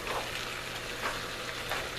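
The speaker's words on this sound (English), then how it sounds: "Now that we've got the beef cooking up" Ground beef frying in a pan for a bolognese sauce, a soft steady sizzle with faint crackles, quiet and continuous with no talking.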